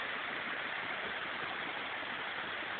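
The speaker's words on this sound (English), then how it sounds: "This is the waterfall of hutbay, Little Andaman." Sparkle Water waterfall near Hut Bay on Little Andaman pours in a steady, dense roar of falling water that holds even throughout, with no talk.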